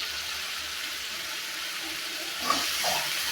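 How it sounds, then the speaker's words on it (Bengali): Water runs steadily with a soft, even splash and hiss while drumstick stems and potatoes are washed in a village kitchen, with a few brief clinks and sloshes near the end. "তো এখন আমি হলো ডাটা আলু ধুয়ে রাখছি"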